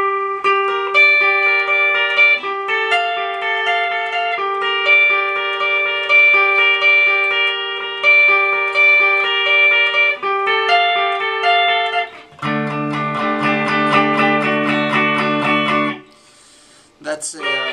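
Electric guitar with an effects unit plays the next part of a song, with sustained chiming notes that build into a thicker, louder chordal passage near the end, played solo and close.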